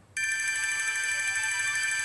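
A phone ringtone starts abruptly after a moment of quiet and rings on steadily as a bright electronic tone, clear and fairly loud, with no one talking.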